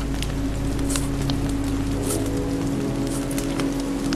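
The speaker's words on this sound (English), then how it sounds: "This rain will turn to sleet, then ice, then snow." Steady rain patters down in The Walking Dead Season 2 game, a soft, even hiss of falling drops over a low ambient hum, continuous and unbroken with no voices.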